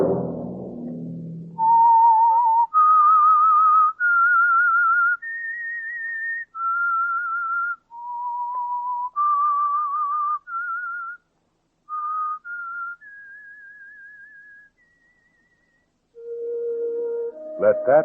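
A clear whistled melody of sustained notes rising and falling, the signature theme of a 1947 radio drama, played alone in a quiet room, with a brief low tone near the end.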